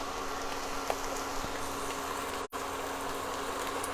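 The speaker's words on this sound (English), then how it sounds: "And I am adding fish stock." Two quarts of fish stock pour into a 5-quart Stobe Dutch oven for a Catalan fish stew, giving a steady, hissing, bubbling liquid wash that runs continuously with one brief dropout.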